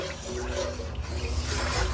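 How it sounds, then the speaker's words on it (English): Heavy whipping cream poured into a pan of honey pepper chicken pasta sauce, a steady soft liquid pour running close and continuous for a couple of seconds. "we're gonna go in with our 1 cup of heavy whipping cream"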